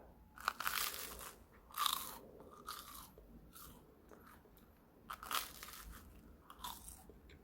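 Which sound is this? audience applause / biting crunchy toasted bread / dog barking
biting crunchy toasted bread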